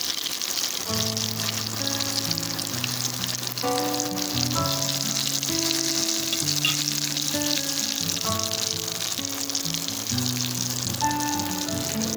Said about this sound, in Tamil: இப்போ நம்ம திருப்பி போட்டு இன்னொரு பக்கம் குக் பண்ணுறோம்.